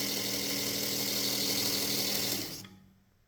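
Knife sharpening belt grinder running at 3,000 RPM, a steady close mechanical hum and whir that holds evenly, then winds down quickly to near silence at the end.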